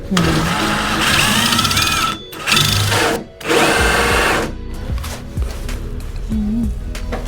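A power drill bores a hole for a door handle in a custom plywood bathroom door with oak finish, whirring loud and close in a sustained run with two brief stops.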